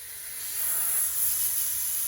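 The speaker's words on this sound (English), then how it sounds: "Take your blow nozzle and go ahead and blow in the holes that you have in the tire if you have any." Compressed air blow nozzle forcing water out of the holes in a nitro RC car tire, a steady close hiss that swells slightly partway through, with no talking.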